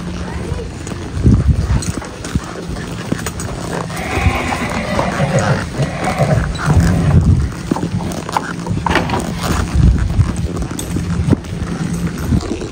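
On a cattle ranch, horses' hooves clip-clop in uneven knocking steps over ground, mixed with rustling movement and people talking nearby throughout.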